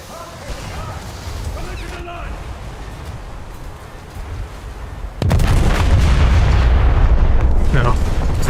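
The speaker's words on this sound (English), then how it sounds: "There go the torpedoes." Torpedoes launched from a warship in a naval video game: a sudden loud burst erupts after a quieter stretch, then a sustained heavy roar with booming blasts, while a voice talks over the game.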